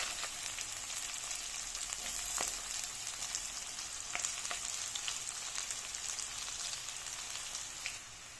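Onions frying in a pan for a Bangladeshi rohu fish curry with taro, giving a steady close crackling sizzle with scattered pops throughout.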